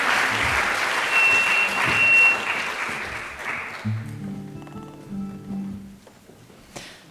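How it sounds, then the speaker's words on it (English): Audience applause for a panel and musicians at an Earth Charter event in the Peace Palace, The Netherlands: sustained loud clapping from a large crowd that gradually thins out as a low hum carries on. "Another round of applause for the panel and for the music."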